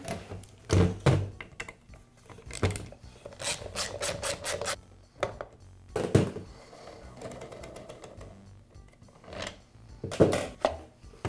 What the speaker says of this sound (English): I'll begin by removing the magazine.